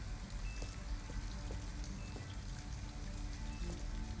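Steady rain falls on surfaces in Detroit: Become Human, a dense, even patter of drops close by with no voices.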